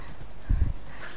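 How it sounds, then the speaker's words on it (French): A horse in the video game Minecraft makes a short burst of low, thudding hoof clip-clops, a few quick steps close by against a quiet background. "Et il y a le cheval, il est possédé,"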